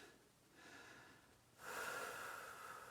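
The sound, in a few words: heavy breathing after exercise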